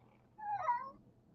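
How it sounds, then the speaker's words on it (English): A house cat meows once for food, a single clear medium-loud meow lasting about half a second in an otherwise quiet room. "If you hear that, that's my cat Pie saying, I want more food."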